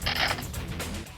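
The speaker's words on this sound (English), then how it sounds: "Use the improved bolt to reload it." Improved bolt pulled back on an AS VAL laser tag assault rifle, giving a short, close mechanical slide and click with a brief ratcheting texture, alone and quiet.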